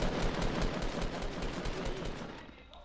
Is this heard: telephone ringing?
no